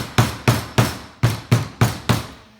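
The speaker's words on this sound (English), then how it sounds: "I'm going to hammer these in a little bit more." Canvas stretcher frame being hammered with seven sharp, evenly spaced blows, loud and close, each one ringing briefly before the next strike.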